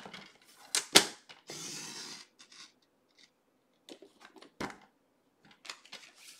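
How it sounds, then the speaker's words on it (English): Scissors cutting pieces of cardstock for a handmade Father's Day card, with a few crisp, close snips and short rustles separated by quiet pauses. "And cut those two pieces out."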